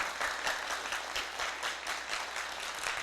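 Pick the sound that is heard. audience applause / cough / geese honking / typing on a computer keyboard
audience applause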